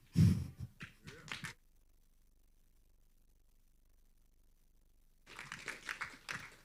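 An audience claps briefly at a church gathering, the applause sharp and close at first, dying away into near silence, then returning in a second short burst.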